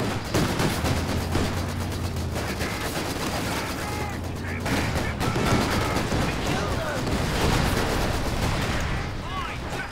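Gunfire and artillery in a World War II strategy game, dense continuous battle noise with bursts of shots and booms, voices calling out over the din.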